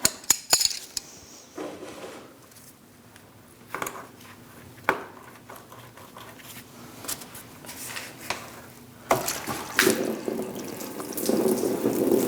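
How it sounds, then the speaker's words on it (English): Coolant splashes and trickles from the loosened lower radiator hose of a 2000-2006 Mini Cooper 1.6L into a drip pan, with a steady pour broken by sharp clanks and taps that grows louder toward the end. "You are going to lose some fluid at this point."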